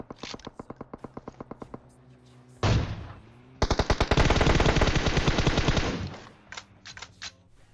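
Gunfire in the video game PUBG, with rapid bursts of automatic fire, a sharp single blast, and then a long sustained volley, loud and close, under game music with no speech.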